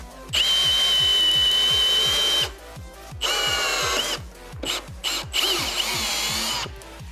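A Milwaukee M18 FPD2 cordless hammer drill-driver whirs in drilling mode in three long bursts with short pauses between, loud and close, alongside a steady low clicking rhythm.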